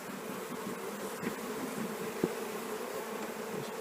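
Honey bees hum in a steady, soft drone from an opened hive while comb is pulled out by hand, with a faint tap partway through.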